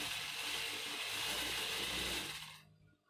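Sewing machine stitching the folded button placket on the front of a shirt dress, a steady whirring mechanical run for most of the moment that cuts off near the end.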